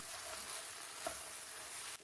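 A steady, soft sizzle of a vegetable mixture for zucchini spread frying in a pan, continuous and even, with a faint stir partway through.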